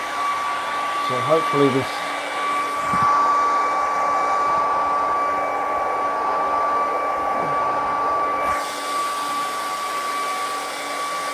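A hair dryer blows on a wet painting of a beach scene, a loud continuous whine and whoosh running most of the time before it cuts off, with a brief spoken remark near the start.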